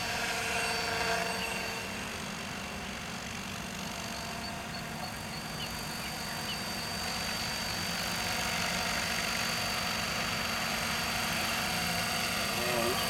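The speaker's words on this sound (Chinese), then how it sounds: "还有马达滴滴滴滴的声音而已" A JR SY E12 radio-controlled helicopter hovers on a test flight, its motor and rotor giving a steady, moderately faint drone throughout with little change.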